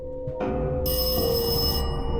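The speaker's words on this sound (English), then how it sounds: "Your phone ringing!" A telephone rings loudly and close, its bright bell tone joining a steady electronic hum and sustaining to the end.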